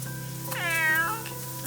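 A stray cat left behind in demolished Beijing hutong courtyards gives one clear, drawn-out meow, close and loud, with no talking.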